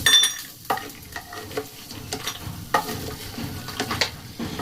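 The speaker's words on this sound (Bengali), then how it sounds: "বাদাম আর বড়িগুলোকে আমি ভেজে তুলে রাখবো" Peanuts and lentil badi fry in hot oil, a close crackling sizzle with clattering stirring strokes in an uneven rhythm, no talking.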